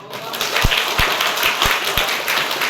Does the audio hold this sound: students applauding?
yes